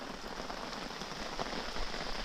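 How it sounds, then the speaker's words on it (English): Steady rain pours down on a surface, a dense, even patter that holds at the same level throughout with no voices. "Been raining all day."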